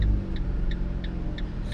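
A car engine idles steadily during a driving lesson, a constant low rumble with a faint, regular ticking, likely the turn signal, repeating about every third of a second.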